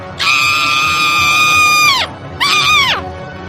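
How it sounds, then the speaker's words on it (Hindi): A stepmother's loud, shrill scream used as a story sound effect: one long sustained cry that bends downward, a short gap, then a second shorter scream falling away. "विमला की सौतेली माँ जोर जोर से चिल्लाने लगी"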